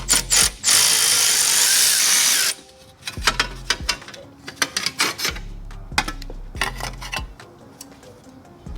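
A power tool runs in a long buzzing burst to remove 10mm bolts from heat shields on an E31 BMW 850i during header installation. Sharp metallic clicks and ratcheting clatter follow as parts are handled nearby.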